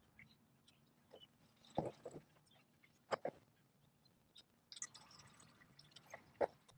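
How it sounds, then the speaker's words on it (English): Engine oil draining from the oil pan of a 2000 Toyota Land Cruiser UZJ100, heard as faint drips and soft liquid splashes at irregular intervals over quiet background. "So I'll get this drained out, then we'll install the Fumoto valve."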